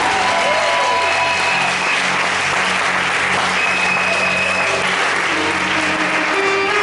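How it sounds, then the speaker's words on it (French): A congregation at a church service breaks into sustained, loud applause, dense clapping filling the space without pause from start to finish. "Acclamons le retour de Jésus."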